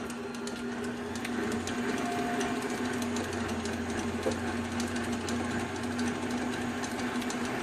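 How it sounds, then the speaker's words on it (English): Electric hand mixer running steadily as it beats lemon pound cake batter in a home kitchen, a constant motor whir with a buzzing tone and a small clunk midway, no talking. "that's not the best cake mixer in the world"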